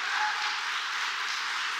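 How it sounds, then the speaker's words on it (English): Round of applause from an audience, a steady, even wash of many hands clapping, alone and fairly close. "if we could all give her a round of applause"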